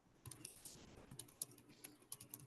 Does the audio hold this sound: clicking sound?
yes